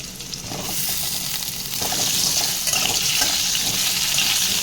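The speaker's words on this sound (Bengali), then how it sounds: "আলুগুলোকে আমি ব্রাউন ব্রাউন করে ভেজে নেব" Cut potatoes fry in oil with cumin seeds, giving a dense, close sizzle that swells louder midway and holds steady, with faint watery crackle and no talk.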